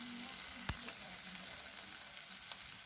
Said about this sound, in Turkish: Güzel kızarmaya bıraktım.